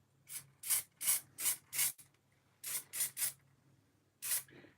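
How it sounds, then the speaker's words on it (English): An aerosol can sprays onto a model railway layout in short, close hissing bursts, first five quick puffs, then three more, then a final one, with quiet pauses between. "I'm going to give it another spray because I think it's starting to lose."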